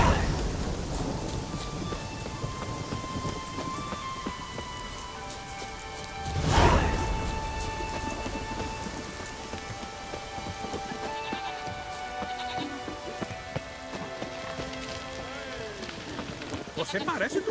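Rain and thunder in the video game The Witcher 3: Wild Hunt, steady hissing rain throughout with one loud rolling thunder crack about a third of the way in, while people speak over the storm.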